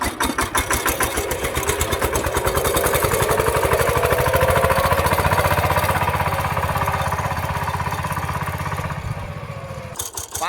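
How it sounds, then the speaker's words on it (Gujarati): A VST mini tractor pulls in second gear through a cotton field. Its small engine chugs in rapid, even pulses, loud and close throughout, then cuts off abruptly near the end. "આપણે બીજા ગેરની અંદર બહાટે ટ્રેક્ટર હાંકવાનું છે."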